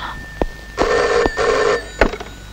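A telephone rings in a Telugu film scene, loud and close: two bursts of electronic bell trilling separated by short gaps, with sharp clicks between them and no talk.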